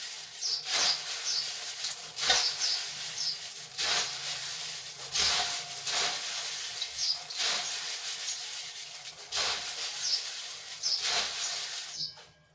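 Puffed rice tossed and rubbed by hand with garlic chutney for spicy sev mamra, a repeated dry rustling and crunching in rhythmic bursts, close and fairly quiet, with no talking.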